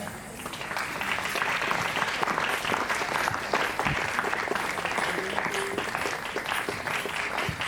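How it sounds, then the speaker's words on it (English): An audience applauds at a school's annual exhibition, a dense, sustained wash of many hands clapping steadily throughout at moderate distance, with no talk over it. "A big round of applause for our distinguished chief guest."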